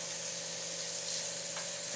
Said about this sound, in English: I don't know if you can hear that sizzle or not, but that's how I know it's starting to get hot enough.